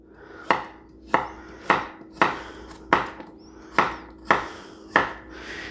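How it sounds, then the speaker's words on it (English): A sharp knife slices through a pound of carrots on a cutting board, making about nine crisp, evenly spaced chops that sound close and clear, with no talking over them. "1 pound of carrots sliced. Oop, that knife is sharp."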